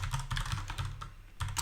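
Rapid typing on a computer keyboard while writing React code, a close run of crisp key clicks in quick bursts with a short pause near the middle, no voice over it.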